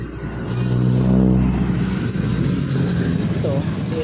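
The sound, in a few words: Honda Click 125 scooter engine running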